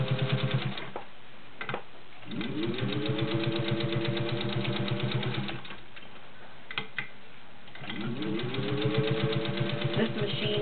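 A gear-driven Singer 201-2 sewing machine hums and rattles in two sustained runs while stitching through ten layers of thick cotton upholstery fabric, its rapid needle chatter steady and close, separated by brief pauses and clicks.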